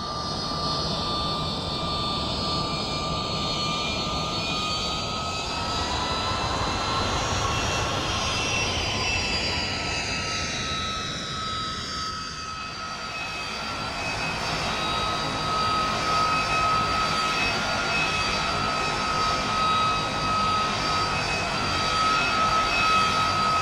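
Antonov An-225 Mriya jet engines in the FS2004 flight simulator game, a loud continuous roar with high whining tones that shift in pitch midway and then settle into a steady, even drone.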